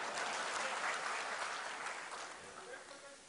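Applause from a conference audience in a technical session hall, a dense steady patter of many hands that fades slightly toward the end.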